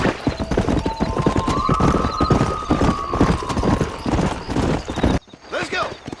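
Horse hooves gallop in rapid rhythmic clip-clop beats in the Red Dead Redemption video game, with a whinny and talking voices over the hoofbeats before the sound cuts off abruptly.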